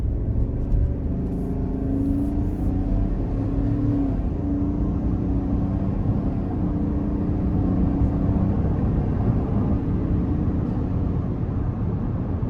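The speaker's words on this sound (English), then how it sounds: "Let's go ahead and give it some throttle here." A 2024 Chevrolet Tahoe LS nine-passenger SUV pulling under part throttle, giving a steady low engine drone and road rumble from inside the cabin, with no sharp surge.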